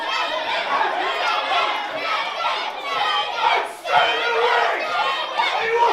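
Crowd at a VCW Karnage wrestling title match chanting and cheering loudly, a dense roar of voices with rhythmic surges and a brief dip midway before the noise swells again.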